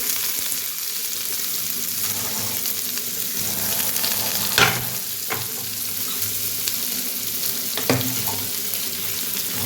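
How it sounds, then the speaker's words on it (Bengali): Onions and chilies sizzle steadily in hot oil, with a constant close frying hiss broken by a few sharp scrapes and clacks of a spoon stirring the pan. "পেঁয়াজ লঙ্কাটা দিয়ে দিলাম, ভেজে নেব।"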